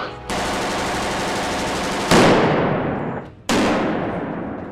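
An FN FAL rifle fires long bursts of automatic gunfire at a recording session for a Batman game, three sustained rattling volleys loud and close, each cutting off into a decaying echo.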